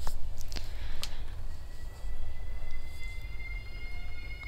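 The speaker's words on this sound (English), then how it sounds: "Sirens?" Wailing sirens in the video game 1954 Alcatraz, faint rising and falling tones over a low rumbling background, with a few sharp clicks at the start.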